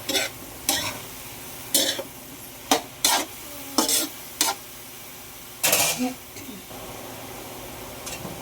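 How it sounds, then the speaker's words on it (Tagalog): Eggplant adobo with spicy sardines is stirred in a pan: about eight sharp scraping clatters at irregular intervals over a low background sizzle. "Yan, haluin natin siya."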